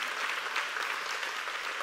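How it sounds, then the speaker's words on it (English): A church congregation claps steadily in dense, sustained applause that fills the room at an even, moderate level, with no voices rising above it. "if you're going to clap for the Lord, clap for him"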